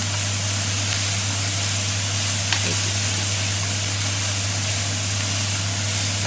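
Onion sizzling and frying in a hot pan for paella while being stirred, a steady close hiss with a faint scrape of the spoon partway through and no voices.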